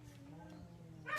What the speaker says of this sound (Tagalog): Ayan na naman yung mga aso,